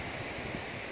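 Wind blows across a beach on a windy day, with a dense, steady roar of waves and gusts filling the short stretch with no voices.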